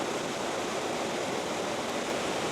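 Mae Wa Waterfall in Mae Wa National Park, Lampang, spreads wide over one of its tiers, producing a loud, continuous rushing roar of falling water with no other sounds.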